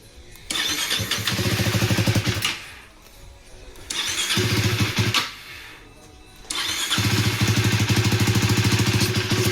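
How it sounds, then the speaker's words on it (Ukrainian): A KTM 390 SMC R motorcycle engine cranks and fires up three times, each start catching into a loud, steady rumble before cutting out briefly. "Перший старт зараз робимо."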